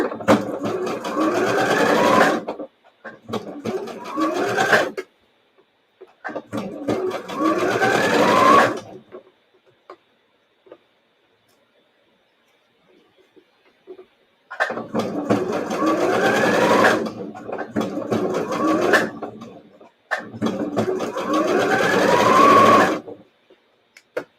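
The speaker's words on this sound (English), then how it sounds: "forward stitch and then back stitch. So you lock it in and then forward stitch." Sewing machine stitching a shirred top, running in four long bursts of rapid, steady whirring with pauses between, the first pair close together, then a longer quiet gap before two more runs.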